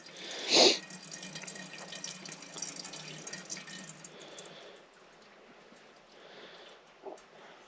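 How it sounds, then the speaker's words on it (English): Fuel drains from a snowmobile carburetor as a steady, faint liquid trickle and dripping. A sharp splash or clunk comes near the start, and a small knock follows near the end. "Let me just drain the fuel out of it quickly"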